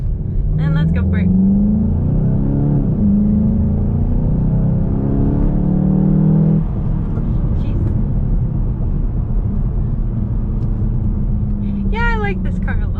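A VW Golf GTI MK7.5 pulls away from about 20 mph, engine droning and rising under steady acceleration inside the cabin, then easing to road rumble while a person talks over it.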